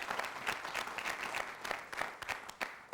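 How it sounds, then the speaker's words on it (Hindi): A studio audience on a Hindi television game show bursts into steady, dense applause that holds at an even level from start to finish, with no voices on top. "तालियां।"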